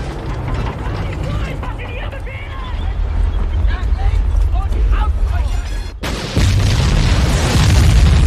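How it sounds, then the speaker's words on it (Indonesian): A bridge demolition explosion in a World War II film scene, with German Panzer tanks nearby: a deep rumbling battle soundscape swells into a sudden loud blast around the six-second mark, followed by a sustained roar of debris. "Akhirnya ledakan itu pun terjadi"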